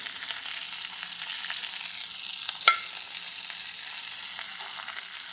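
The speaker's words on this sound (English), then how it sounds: "I'm going to drain off some of the excess liquid." Excess cooking liquid is drained off braised artichokes in a Provençal-style kitchen: a steady, soft hiss of pouring liquid runs throughout, with one brief clink near the middle.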